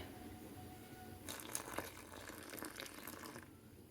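Hot water is poured into wheat flour in a mixing bowl while preparing dough, a soft trickling splash that starts abruptly, runs for about two seconds and then stops, faint against a quiet kitchen.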